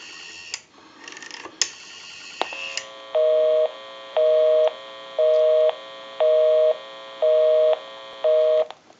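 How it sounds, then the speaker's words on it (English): European-style repaired rotary desk telephone: a few clicks and brief tone, then a busy signal sounding in six evenly spaced loud beeps, clear and close through the handset with no voices. "We'll call my number and it'll be busy. Give you some dial tone."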